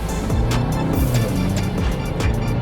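Land Rover Defender OCTA engine pulling under acceleration on a short drive, a steady, close, loud rumbling drone with rising engine tones, no talking.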